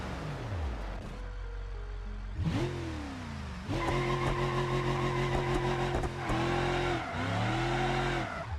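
A powerful limousine's engine revs and drifts in a home-built racing simulator game, with repeated rising and falling engine pitches, loud and close, tire squeal mixed in, and no talking.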